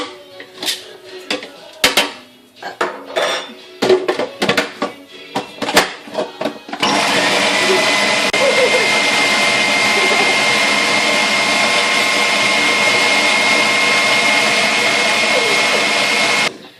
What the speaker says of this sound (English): we have a blender